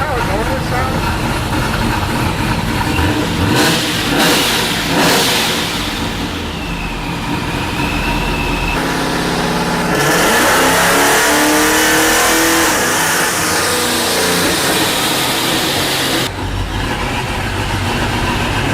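Procharged 2002 Pontiac Trans Am with an F1A94 supercharger revving loud and close on a dyno, the engine note rising and then breaking up unevenly, while people talk over it.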